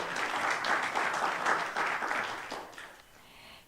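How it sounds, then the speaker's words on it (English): Summit audience gives a steady round of applause, dense and moderately quiet, holding for about three seconds before thinning out and fading away. "A round of applause for him."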